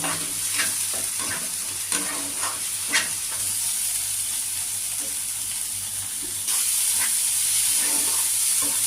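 Spice paste frying in oil for a fish curry, a steady close sizzle with intermittent stirring scrapes throughout, the hiss growing slightly louder and brighter near the end.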